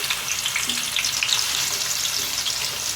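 Two thinly sliced medium onions and four chopped green chillies fry steadily in hot oil as a tempering for chicken fry gravy, a dense continuous sizzle held close throughout with no voices.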